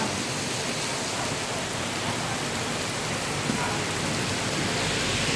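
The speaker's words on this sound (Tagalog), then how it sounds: "nabutan tayo ng ulan" Heavy, steady rain pouring down, a dense continuous hiss without pause.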